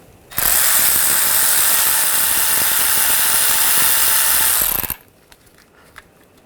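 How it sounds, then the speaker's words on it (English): A T30 socket on a ratchet loosening a screw on a 2009-2017 Volkswagen Tiguan 2.0L, one loud continuous mechanical whirring burst lasting about four and a half seconds close up, then near silence. "Using a T30 socket, loosen up the screw right here."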